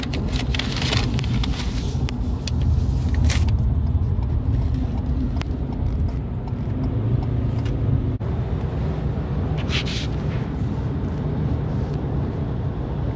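A Ford Maverick hybrid driving at night on a highway through Orange County, California, gives a loud, continuous road and tire roar with a low engine rumble. Faint passing swells come and go, and no one talks.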